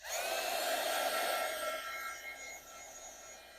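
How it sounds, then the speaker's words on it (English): A heat gun blows close by while drying purple chalk paint on a chalkboard, a loud steady whooshing roar with a faint whine that eases off slightly toward the end, with no talking. "I'm going to hit this with the heat gun again real quick just to dry up this purple"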